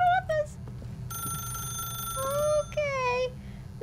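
A phone rings inside The Stanley Parable, a bright electronic trill repeating in steady bursts over a low hum while a voice speaks in between the rings.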